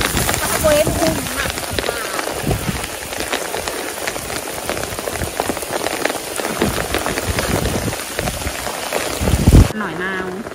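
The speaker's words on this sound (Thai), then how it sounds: "อากาศฝนตกมาเรื่อยๆแล้วก็ตากฝน" Heavy rain pours onto a hut in a rice field, a dense, steady roar of close drumming on the roof. A few louder knocks come near the end, where the rain stops abruptly and a voice briefly sounds.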